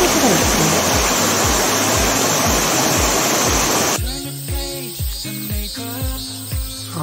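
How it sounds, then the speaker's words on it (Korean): A waterfall at the dead end of a mountain valley gorge in Gangwon-do roars as a loud, steady rush of water, shifting partway through to a busier, splashing texture with rhythmic clicking underneath. "약 7m 정도 경사선들을 올라가니 막다른 곳에 폭포수가 있습니다"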